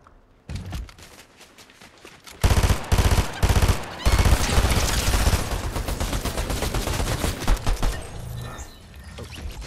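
A pistol fires in the video game Fortnite: loud, close shots in rapid bursts, joined by heavier overlapping gunfire and game noise before it fades out near the end.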